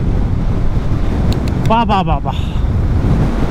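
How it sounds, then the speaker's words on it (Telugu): Heavy, steady wind buffeting on a motorcycle ride through the hills between Atal Tunnel and Tandi in Ladakh, a constant low roar throughout with a short burst of a voice in the middle. "ఎదురుగా అయితే విండ్ బ్లాస్ట్ బీభత్సంగా ఉన్నది గైస్."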